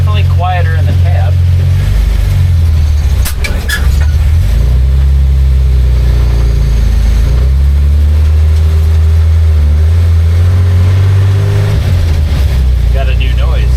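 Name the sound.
1946 Chevy truck engine with bolt-on Amazon exhaust driving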